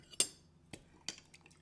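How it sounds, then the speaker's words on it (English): A utensil stirring yeast and sugar into warm milk in a bowl, heard as a few light, separate clinks and scrapes against the dish, close and quiet. "Just mix that till the yeast dissolves"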